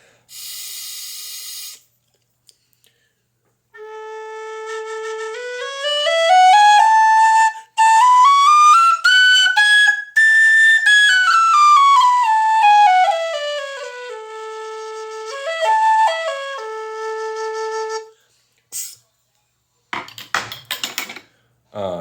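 A hard-blowing alto whistle, a goldie that needs thorough warming up, plays loud, close, clear notes that climb and fall in a melodic line, with brief breath noise before and scattered short sounds at the end.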